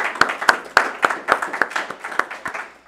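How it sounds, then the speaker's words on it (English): A small crowd at a community event at USD claps for a few seconds, with sharp, fairly close hand claps in an uneven rhythm that thins out toward the end and stands alone without talk. "So let's start by giving you all an applause for showing up."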